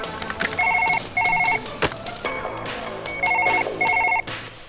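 A phone ringing in the video game Surgeon Simulator, giving four short double-burst electronic rings, loud and close, over a steady game background with other clatter.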